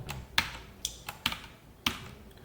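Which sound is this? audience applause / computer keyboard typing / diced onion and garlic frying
computer keyboard typing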